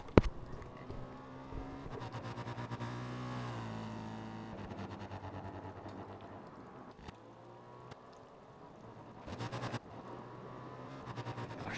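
A racing motorcycle at NW200 road race qualifying roars past, its engine note rising and falling as it approaches and fades, fairly distant and alone with no talk.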